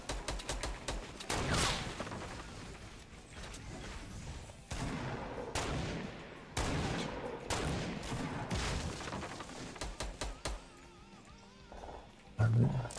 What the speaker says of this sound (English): There's like people shooting from behind as well.